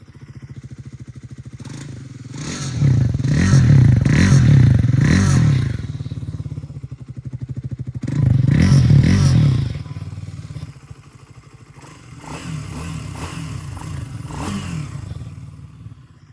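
Triumph Speed 400 motorcycle engine idling and revving in bursts, with surges at intervals separated by quieter idle, plus some clatter and thumps, close by with no talk.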